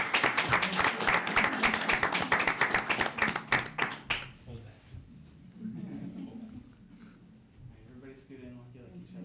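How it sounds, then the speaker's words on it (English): Applause at a Gaithersburg city council meeting: several seconds of dense, fairly loud clapping that cuts off abruptly, followed by quieter room murmur and talk. "let's give them a round of applause for receiving."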